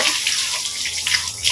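Water splashing and running steadily over a motorcycle being washed, a continuous hissy spray with soft splashes close by, no talking.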